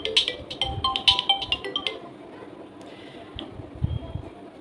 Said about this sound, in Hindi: फोन आ रहा है, अब नहीं कर रही, मैं काट देती हूँ